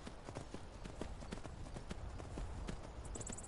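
Horse hooves clip-clop in a steady, even gallop as Geralt rides through The Witcher, close and continuous under game ambience, with no speech.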